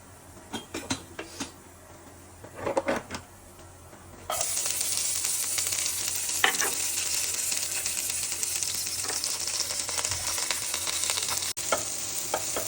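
Onion, garlic and whole cumin sizzle in hot oil as a tempering for bottle gourd, a steady loud frying hiss that starts abruptly, with stirring scrapes and faint utensil clinks earlier on.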